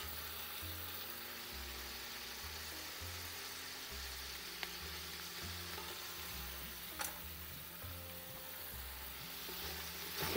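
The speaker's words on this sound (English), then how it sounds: "So now you need to fry all this vegetable in the masala on a high flame for at least 3 minutes." Vegetables fry in masala in a pot over a high flame, a steady loud sizzle running throughout with an underlying pulsing low rumble and a couple of faint clinks from stirring.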